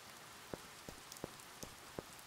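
Rain falls softly in the video game The Rewinder, a faint steady hiss punctuated by about five distinct droplet taps spaced unevenly apart.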